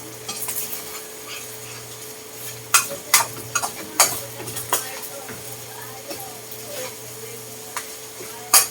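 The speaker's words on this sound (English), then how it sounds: "I know you can't see what I'm doing, but all I'm doing is just stirring the meat." Meat seasoned with Italian seasoning and oregano is stirred in a pan: irregular sharp clacks and scrapes of a utensil against metal over a faint sizzle and a low steady hum.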